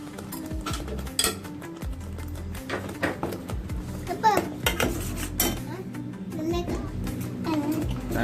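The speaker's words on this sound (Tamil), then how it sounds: "இப்போ நம்ம போட்டு ஒரு கிண்டிக்கிறோம். நல்லா மிக்ஸ் பண்ணிக்கிறது நம்ம." Masala for a mutton gravy gets stirred in a metal pan on the stove, with repeated scraping and clinking of the spoon against the pan and some background voices.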